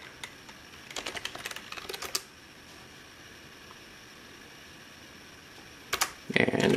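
A Windows password is typed on a keyboard in two short bursts of rapid, close key clicks separated by a quiet pause, with faint background hum and a little talk.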